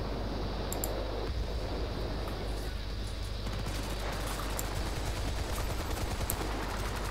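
Repeated M14 rifle fire in Bad Company 2 Vietnam, a dense wash of shots and battle noise filling the whole stretch at a steady loud level with no clear gaps.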